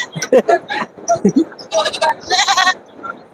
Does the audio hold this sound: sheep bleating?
yes